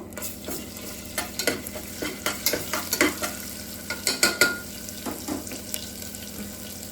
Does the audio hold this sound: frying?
yes